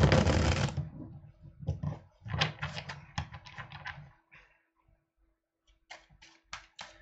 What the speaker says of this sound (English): let me do my riffle, making sure that the cards are well mixed